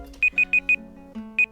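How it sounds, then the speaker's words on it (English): A timer beeps in quick bursts: four evenly spaced high tones, a short pause, then two more, loud and close over a faint low background hum. "Timer just went off."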